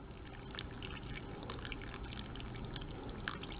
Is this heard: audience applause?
no